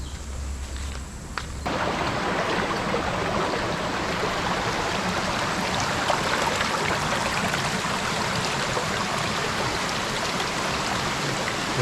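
Water flows steadily near a village resort in rainy green countryside, a dense, loud, continuous rush that starts after a brief quieter moment and carries on without a break.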